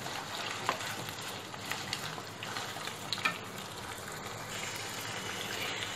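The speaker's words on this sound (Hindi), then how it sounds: "इसे करीब हमें 3 से 4 मिनट के लिए इसको फ्राई करना है। गैस अपनी तेज कर लिए।" Chicken nahari fries over a high gas flame, giving a steady, dense sizzle with occasional stirring scrapes at moderate volume and no talking.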